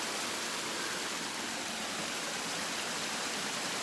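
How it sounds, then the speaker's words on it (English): A small brook on an Appalachian Trail hike in the Wildcats runs steadily over rocks, a dense, even rushing wash close by, with no voices. "Nice brook."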